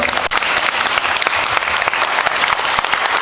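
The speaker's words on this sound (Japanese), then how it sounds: "龍騎が良かったと思うので拍手お願いします" A crowd at the under-19 final of an Okinawa beatbox battle applauds loudly, a thick, sustained wash of clapping with a few sharper claps standing out, close and without speech.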